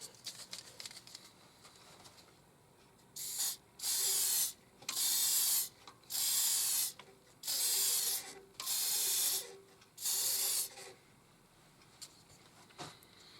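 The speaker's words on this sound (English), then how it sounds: "I've given it 2 coats of spray lacquer and I'm just going to give it another one." Seven short hissing bursts from a can of spray lacquer onto an English walnut bowl, each about a second long with brief gaps, close by, over quiet background noise.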